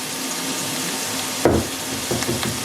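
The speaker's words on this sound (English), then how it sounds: "Chorizo oil's in the pan, sizzling." Onions, garlic and thyme hit chorizo oil in a pan for a pork dish, giving a steady close sizzle with a brief louder burst midway.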